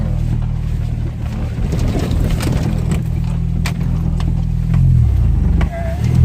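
A pickup truck engine drones steadily with a deep low rumble, straining as it climbs a steep slope, then shifts pitch near the end; faint voices sit underneath.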